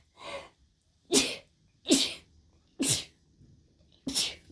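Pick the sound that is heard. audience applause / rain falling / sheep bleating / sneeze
sneeze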